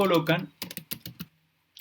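Someone speaks briefly, then a quick series of sharp computer mouse clicks and keyboard taps follows as folders are renamed on a computer, crisp and close with small gaps between each click.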